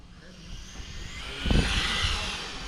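Tamiya Ford TT01 radio-controlled car with a 3500KV brushless motor driving, a steady motor whine with a louder surge partway through, heard without speech.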